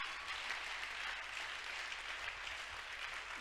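An audience at a youth closing gathering claps steadily to welcome a speaker, a dense, even wash of applause that stays moderate in volume and continues throughout.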